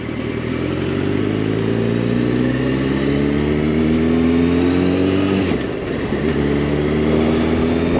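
A Yamaha FZ8 motorcycle engine revs steadily higher, drops off abruptly as it brakes, then picks up again, close and loud with no talking.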